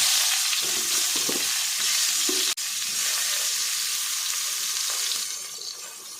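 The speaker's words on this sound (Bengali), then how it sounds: "এখানে দিয়ে দিচ্ছি আমি বেগুনগুলো" Eggplant pieces frying in hot oil in a pan: a loud, dense sizzle with a few stirring scrapes near the start and one sharp knock midway, then the frying eases slightly toward the end.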